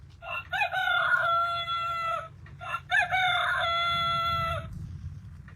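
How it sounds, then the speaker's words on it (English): A rooster crows twice in long, loud, close calls during a storm, with a low, steady rumble of weather noise underneath. "There's the rooster."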